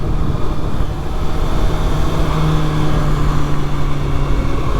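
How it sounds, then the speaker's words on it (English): A 2025 Kawasaki Ninja ZX6R motorcycle engine braking while riding, a steady loud engine drone with a faint tone shifting under heavy wind rush, no talking. "Let's do some engine braking while we're at it."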